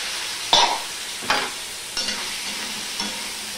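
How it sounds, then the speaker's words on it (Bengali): Papaya and potato pieces hit hot oil in a pan, giving four sharp bursts of sizzle a second or so apart over a soft, steady frying hiss. "সবার প্রথমে এই শক্ত সবজিগুলো দিয়ে দেব, পেঁপে আর আলু, এগুলো আমি দিয়ে দিলাম"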